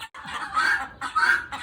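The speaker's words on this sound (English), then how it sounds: "That's a turkin, a chicken turkey." A turken, a chicken-turkey hybrid, clucks in two raspy bursts over a steady wash of rain, fairly close and with no talking.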